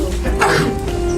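A single short sneeze in a classroom, heard up close and brief against a steady background hum.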